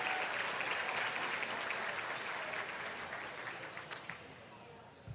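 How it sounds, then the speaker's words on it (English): Sustained applause from a large audience at a medical school Match Day ceremony, steady broadband clapping that gradually thins out over about five seconds, with a couple of sharper claps near the end. "Another round of applause."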